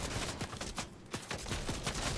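Bursts of gunfire in the video game Fortnite crack out in rapid, closely spaced shots. A brief gap falls midway, then the shooting resumes.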